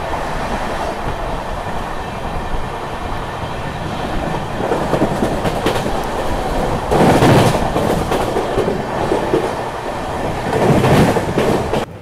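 The Amrit Bharat Express rolls through Khalilabad station without stopping, a loud, continuous rumble with clattering wheels heard from on board, with a few sharper bursts as it passes.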